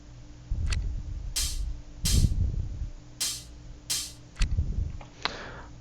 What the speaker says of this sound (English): which is this sort of open hat cymbal